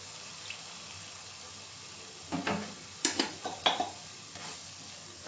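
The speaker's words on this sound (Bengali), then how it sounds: "অল্প জল দিচ্ছি।" A little water poured into a spicy tomato crab curry, with a quiet background hum and then a short burst of splashing and bubbling spatters.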